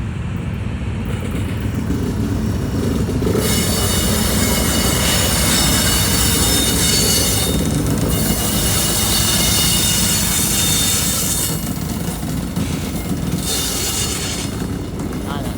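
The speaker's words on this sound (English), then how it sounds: "And there's a train coming in." A train rolls in beside a university football stadium and softball field, a loud, steady rumble of rail cars with faint wheel squeal that holds throughout, with no talk over it.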